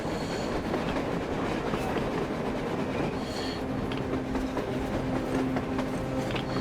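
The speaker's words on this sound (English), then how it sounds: "A train! A damn train on the surface!" Train on the surface in the Metro Exodus game, a continuous rumbling rolling sound with rhythmic wheel clatter and faint metallic squeals, moderately distant and steady without voices.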